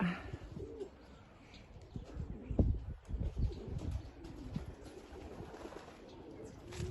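Pied pigeons cooing inside a backyard shed, soft low throaty coos repeating under steady background noise, close by and moderately quiet.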